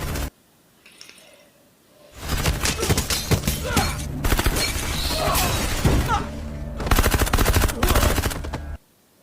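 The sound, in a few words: gunfire in film scene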